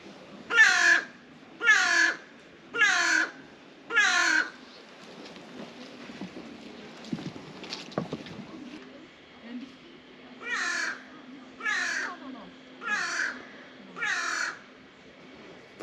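Crows cawing beside a lake at Trakai in autumn, two bursts of four harsh caws each separated by a quieter stretch of water and boat noise, with a low steady hum in the second half.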